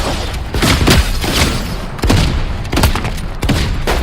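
Gunfire in Fortnite, with heavy shotgun blasts followed by bursts from an assault rifle, loud and close, several sharp shots spread across a few seconds over a dense game-sound background.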